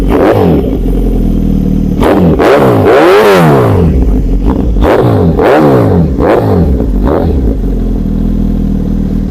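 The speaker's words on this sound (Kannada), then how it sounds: "ಈ ಒಂದಲ್ಲಿ ಯಾವ ಥರ ಎಕ್ಸಾಸ್ಟ್ ಸೌಂಡ್ ಬರುತ್ತೆ ಅಂದರೆ ನಿಮ್ಗೆ ಕೇಳಿಸ್ತೀನಿ ಬನ್ನಿ" A Suzuki Hayabusa motorcycle with a single exhaust is revved hard several times up close, each loud rise and fall of engine pitch following the last in quick succession, with no talking over it.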